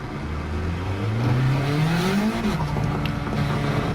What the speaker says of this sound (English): Got that nice blow-off valve going on